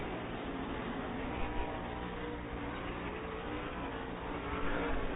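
Sprint cars race at Lernerville Speedway in Sarver, Pennsylvania, a dense, steady engine roar heard from the stands, muffled and continuous, with a slight swell near the end.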